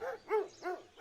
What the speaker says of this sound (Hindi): कुत्तों के भौंकने की आवाज अब भी आ रही थी।